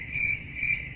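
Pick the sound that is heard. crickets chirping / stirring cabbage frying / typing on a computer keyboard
crickets chirping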